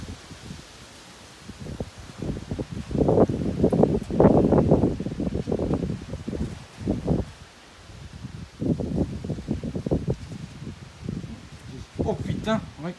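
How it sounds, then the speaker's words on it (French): Strong gusting wind during a violent thunderstorm in Clermont-Ferrand roars and buffets the microphone in surging waves, loud and close, while someone talks excitedly over it. "Voilà, comment ça souffle, c'est impressionnant. Ouais, là, c'est un rafale de vent, là."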